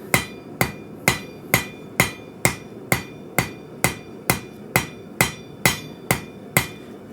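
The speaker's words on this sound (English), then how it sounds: "I need to take this straight peen and hit it this way so that it pushes that material that direction" A straight peen hammer strikes a hot Damascus steel blade in a steady series of about a dozen sharp, ringing metallic blows, evenly spaced and close, with no talking.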